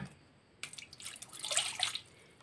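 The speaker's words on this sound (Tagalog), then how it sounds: "maglagay tayo ng isang basong water" Water is poured into a glass for making onion pickles, a short splashing trickle that starts quietly and builds over about two seconds, close and alone.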